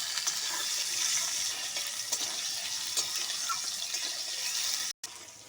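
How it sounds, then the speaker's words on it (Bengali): Cut potatoes fry in a pan with a continuous close sizzle and some stirring, steady throughout with a brief cut near the end, no talk. "আলুগুলো দিয়ে আমি লালচে করে ভেজে নেব।"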